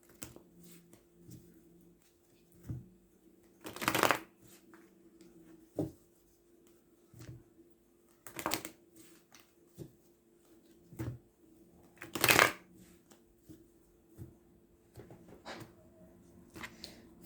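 A deck of tarot cards being handled, shuffled and cut in short bursts of riffling and soft taps spread across a quiet room, with a few louder swishes.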